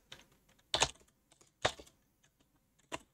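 Bursts of typing on a computer keyboard during a command-line session, with a few clustered key clatters rising over quiet gaps and scattered lighter taps, close and fairly crisp.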